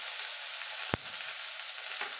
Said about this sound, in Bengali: বেগুনটা এইভাবে আলাদা একটু ভেজে নেবেন